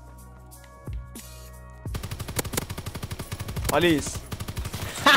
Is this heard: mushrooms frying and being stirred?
no